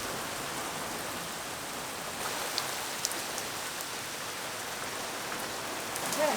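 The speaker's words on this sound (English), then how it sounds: "And then more rain." Steady rain falls on a boat anchored in a sheltered bay among Croatian islands, a dense even hiss of drops with a few sharper taps standing out, constant and close throughout.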